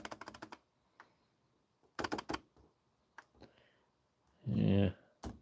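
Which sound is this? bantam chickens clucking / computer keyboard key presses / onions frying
computer keyboard key presses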